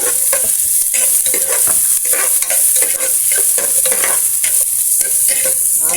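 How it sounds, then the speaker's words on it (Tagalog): Ginger, onion and garlic sauté in a pan for rice porridge, a steady loud sizzle running throughout with repeated scraping and stirring strokes of a utensil against the pan, close by and with no voices. "Gisa lang natin yan hanggang sa mag-brown yung ating bawang at saka sibuyas."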